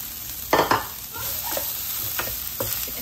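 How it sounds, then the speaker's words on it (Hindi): Green onion tops fry in a pan for chicken spring rolls, with a bright, steady sizzle and several quick stirring scrapes close up, loudest near the start. "हरी प्याज है उसका ऊपर वाला पार्ट डाल रहे हैं हम। उसे भी हमने हमें 2 से 3 मिनट फ्राई करना है।"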